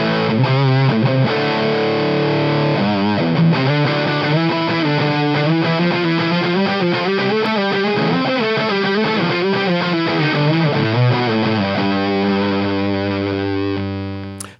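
Electric guitar played through a ThorpyFX Gunshot fuzz pedal, thick and compressed chords and riffs sustaining loudly throughout before cutting off at the end.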